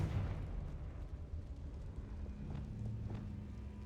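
A Confringo blasting spell goes off in Hogwarts Legacy, giving a low, rumbling explosive burst inside a tall room, with a sustained boomy tail and faint crackles over a steady low drone.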